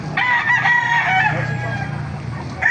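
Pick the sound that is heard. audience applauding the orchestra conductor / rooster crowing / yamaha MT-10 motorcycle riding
rooster crowing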